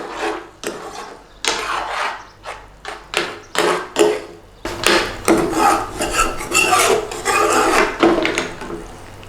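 A spoon scrapes and stirs a thick masala sauce around a metal pan for a British Indian restaurant North Indian Special, loud rhythmic rasping strokes repeating close up without any talk.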